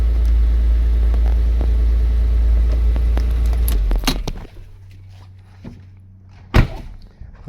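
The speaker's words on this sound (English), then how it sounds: "Cold startup." Porsche Boxster 986 engine idling steadily after a cold start with its idle warning light on, a loud low drone that drops to a quieter idle partway through, broken by a few clunks and one sharp knock near the end.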